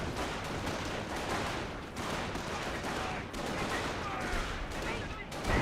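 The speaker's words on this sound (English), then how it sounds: "We do have now an actual 25 pounder barrage there" A 25-pounder artillery barrage in Company of Heroes rumbles as a dense, continuous roar of overlapping blasts and crackling explosions, loud and sustained throughout.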